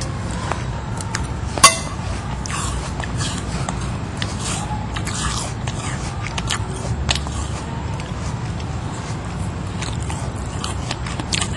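A crunchy Fuji apple is bitten and chewed up close, with one sharp crisp bite early on followed by steady, moist crunching and chewing throughout.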